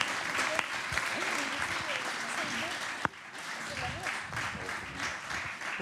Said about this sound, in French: Je pense qu'on peut applaudir.